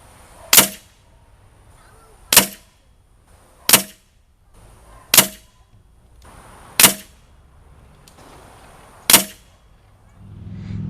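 A Beeman Chief Plus air rifle fires heavy pellets in six sharp, evenly spaced cracks, each with a short ringing tail, close and loud with quiet pauses between shots.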